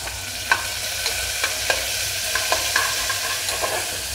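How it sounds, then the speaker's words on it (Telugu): Chopped onion and green chilies frying in hot oil with cumin seeds, a steady close sizzle with occasional small pops and stirring scrapes, no talking. "ఈ ఉల్లిపాయ ముక్కల్ని 1-2 నిమిషాలు ఫ్రై చేసుకుందాము."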